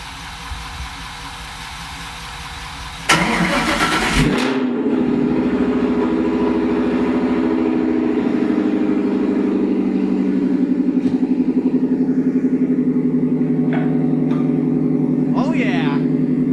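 A car fitted with a Borla ATAK exhaust fires up with a sharp loud bark, then settles into a deep, steady rumble that carries on for over ten seconds, with a few brief voice interjections over it.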